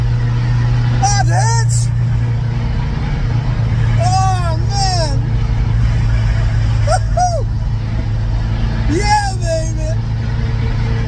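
A Ferrari engine roars with a deep, steady drone, close and loud, while a person shouts excited exclamations over it at intervals.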